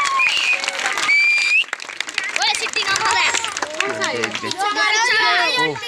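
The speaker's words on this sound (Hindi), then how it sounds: "जोरदार तालियों के साथ स्वागत करें भाई दिसंबर जी का भी" A crowd at a village political gathering applauds loudly to welcome a guest, with dense, steady clapping mixed with whistles, shouts and overlapping voices throughout.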